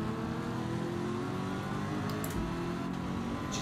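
Gr.3 race cars circling the banked Daytona oval in Gran Turismo 7, a steady loud engine drone with whirring tone holding throughout, no talking.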